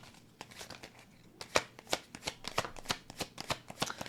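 Playing cards are shuffled close up in a series of crisp riffling bursts, quiet at first and then quickening into a rapid, irregular run of snaps, with no talking.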